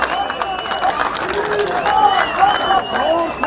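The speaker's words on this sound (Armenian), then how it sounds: "ծափերով" Crowd applause and cheering ring out at a political leader's march in the Shengavit district, a dense steady wash of clapping with raised voices mixed through it for the whole stretch.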